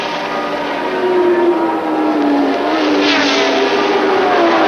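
Formula 1 cars racing at the 1979 South African Grand Prix at Kyalami, a loud close engine howl with a pitch that dips and swells as the cars blast past, no voices.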